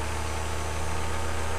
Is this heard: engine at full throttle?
yes